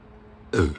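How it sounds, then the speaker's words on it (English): A single short, deep burp sounds up close after a moment of near silence. "That was an extremely satisfying burp."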